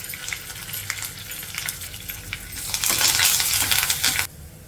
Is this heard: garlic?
yes